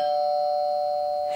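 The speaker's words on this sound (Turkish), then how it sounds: "Zil çalıyor, zil çalıyor." A home doorbell ringing, one sustained electronic chime tone, clear and close, with nothing else audible.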